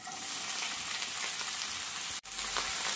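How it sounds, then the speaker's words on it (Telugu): Pieces of ivy gourd fry in oil in a pan, giving a steady, loud sizzle with a brief drop near the end, and no one speaks over it. "మనం దీంట్లోకి ముందుగా కట్ చేసి పెట్టుకున్నాం కదా దొండకాయ ముక్కలు వేసుకొని వేపుకోవాలి"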